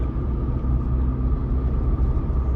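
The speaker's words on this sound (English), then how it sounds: "Let's go ahead and take this 2023 Jeep Wrangler 4xe Rubicon out on the road for a quick test drive" A 2023 Jeep Wrangler Rubicon 4xe plug-in hybrid with a 2.0-litre turbo engine cruising on the road, heard from inside as a steady, loud low rumble of engine and road noise with no talking.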